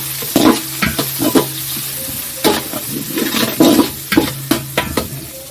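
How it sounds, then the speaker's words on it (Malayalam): Onion and nutmeg are stirred in a pan for a spicy Kerala-style chicken biryani masala: a close, hissing sizzle punctuated by repeated spoon strokes and scrapes, no talk. "പിന്നെ ഒരു ജാതിക്ക ഇട്ട് നന്നായിട്ട് ഇളക്കുക."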